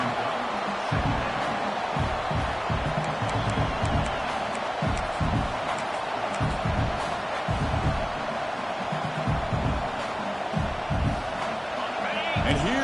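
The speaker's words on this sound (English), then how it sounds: "Comes the noise. This crowd is trying to inspire this defense" A large stadium crowd at an American football game against Auburn roars continuously, with dull thumps scattered through and a voice speaking over the din.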